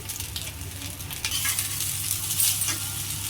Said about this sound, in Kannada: ಹಾಗೆ ಫ್ರೈ ಮಾಡ್ತಾ ಬನ್ನಿ